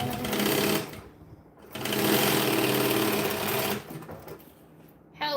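A sewing machine top stitching a bag to attach its handles, running in fast rhythmic bursts with short pauses between runs, close and clear with no talking.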